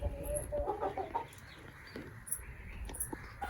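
Small, newly brought hens wandering around a pen cluck in soft, intermittent bursts close by, with faint rustling in the background.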